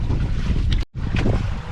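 Big waves in rough seas slap and roar around a small fishing boat, a dense, loud wash of water and wind buffeting the microphone, cut by a brief silent dropout midway.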